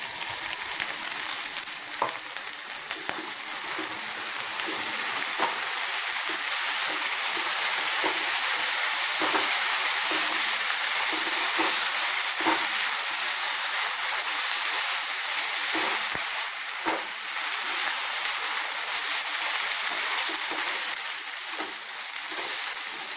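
Rice stirred into a hot frying pot for a Kerala-style jackfruit biryani, giving a steady close sizzle with scraping stir strokes throughout.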